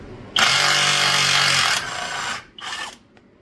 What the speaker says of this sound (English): Now, do I use the rattle gun or do I go careful?